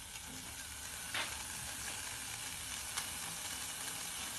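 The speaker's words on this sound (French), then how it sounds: "c'est ça donc le fameux crépitement dont je parle" Chicken pieces fry in a pan, a continuous close crackle and sizzle with a couple of sharper pops, no voices.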